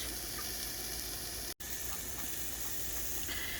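Bacon and beef burger patties sizzling on a grill, a steady bright hiss of frying fat filling the scene with one brief dropout partway through.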